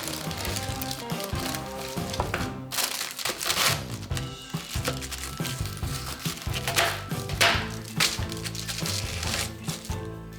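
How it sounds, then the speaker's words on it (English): Homemade honeycomb toffee being smashed into small and large pieces with a wooden spoon, giving close, continuous crunching and crackling with sharper cracks scattered through, no voices. "I like to take a wooden spoon and I smash it into small and big pieces"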